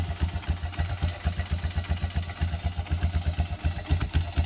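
Cold 2003 Honda Recon 250 ATV engine idling without choke, a close, steady low putter with evenly spaced pulses and a slightly uneven, loping rhythm.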